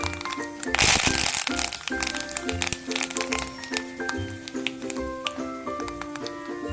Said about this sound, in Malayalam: വറ്റൽമുളക് ഇട്ട് കൊടുക്കാം. കറിവേപ്പില ഇട്ട് കൊടുക്കാം.